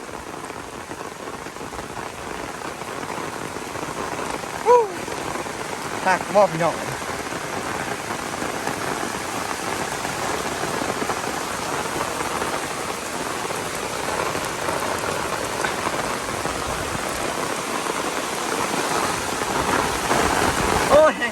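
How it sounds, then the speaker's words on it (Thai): Steady rain falls throughout during a storm outside a rural noodle shop, a dense continuous hiss with a few brief louder knocks; someone speaks now and then over it. "ชุ่มชื่นเนาะกับบรรยากาศฝนตกแบบนี้"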